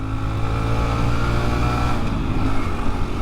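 A Honda Trail 125 motorcycle riding on pavement, its small engine droning steadily at cruising speed with constant road and wind noise. No one speaks.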